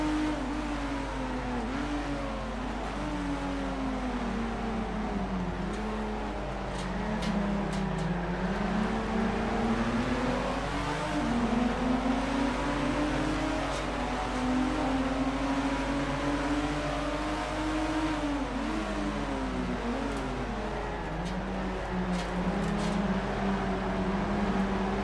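A long-tailed Porsche race car in a racing game at Daytona holds a steady droning engine note that rises and falls smoothly through gear changes and corners, continuous and close with no talking.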